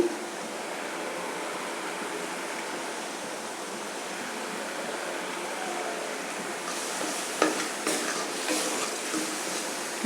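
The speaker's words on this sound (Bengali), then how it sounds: "ভালো করে কষিয়ে নেব" Oats khichuri being stir-fried in a pan, giving a steady, dense hiss that holds throughout, with a few faint knocks near the end.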